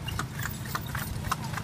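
Horse hooves clip-clop in a steady, even rhythm while riding through the jungle, each hoof strike sharp and close against a constant low rumble.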